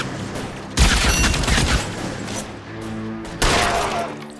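Gunfire in the video game L.A. Noire comes in two loud bursts of rapid shots, the first longer, with quieter game noise between them.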